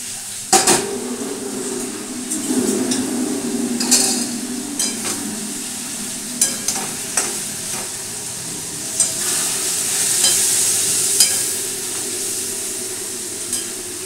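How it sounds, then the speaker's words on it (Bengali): Hot water goes into a pan of spiced potato and pointed gourd that is frying, giving a steady hiss and sizzle with clinks and scrapes of a stirring utensil against the pan, close by. "এখন দিয়ে দিচ্ছি একটু গরম জল।"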